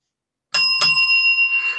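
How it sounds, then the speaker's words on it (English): A doorbell rings a double ding-dong chime: two quick strikes close together, then bright tones that ring on steadily after the silence breaks. "Well, that was the double bell."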